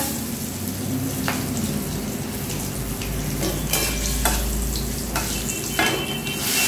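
A bay leaf dropped into hot oil in a pan while cooking Bengali potol dorma, a steady close sizzle and crackle with scraping stirring strokes and a few sharp clinks, medium loud and without talking.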